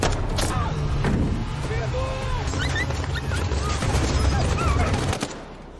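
Gunfire rings out in a film scene: a rapid spray of loud, sharp cracks runs over about five seconds amid a dense din, with voices underneath, then cuts off abruptly.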